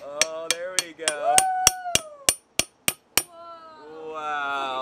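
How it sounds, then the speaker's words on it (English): A hammer strikes a big crowbar being driven into an abandoned safe, about eleven sharp metallic blows in a steady rhythm, loud and close, with a voice sounding under the early strikes and after them. "Let's start tapping this big crowbar in."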